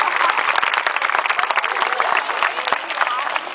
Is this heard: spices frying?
no